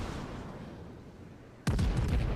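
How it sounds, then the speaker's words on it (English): Incoming naval gunfire in World of Warships from the Japanese ship Isahachi, during an escort operation: a quiet stretch, then a sudden loud booming salvo that rumbles on at close range. "We're getting shots from the Isahachi there"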